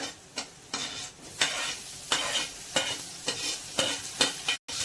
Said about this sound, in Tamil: வெங்காயம் நல்லா வதங்கிடுச்சு இப்போ இதோட நம்ம கட் பண்ணி வச்சுருக்க தக்காளி சேர்த்துக்குவோம் பூண்டுவும் சேர்த்துக்குவோம்